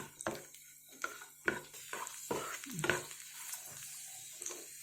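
Raisins, almonds and cashews roast in ghee in a pan for a banana cutlet recipe, under a soft steady sizzle. A spoon stirs with close scrapes and clicks at irregular intervals, and no one speaks.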